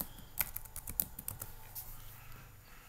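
Rapid, close keyboard typing, a dense run of crisp clicks that thins out toward the end, with no speech.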